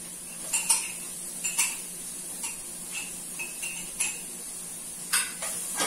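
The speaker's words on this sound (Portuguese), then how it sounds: "Continuar aqui refogando" Onion and garlic stirred in a pan while sautéing for farofa, with irregular metal clinks and scrapes of a utensil against the pan every half second or so over a quiet, steady background.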